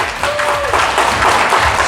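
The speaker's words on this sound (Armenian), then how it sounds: "Հիմա նորից ենք ծափեր տալիս բարձր" Loud, dense applause from a small crowd at a family surprise gathering, steady clapping filling the whole moment close to the microphone.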